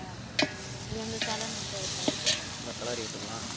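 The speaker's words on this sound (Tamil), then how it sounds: "இப்போ புதினா போட்டுக்கலாம்" Fresh mint leaves dropped into a masala frying in a pan and stirred: a steady close sizzle with scraping stirs and a few sharp spoon clinks.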